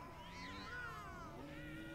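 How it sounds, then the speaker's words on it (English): Several cats meowing and mewling at once in a room in South Park The Fractured But Whole, overlapping wavering cries, fairly quiet and continuous. "Oh, there's a lot of cats in here."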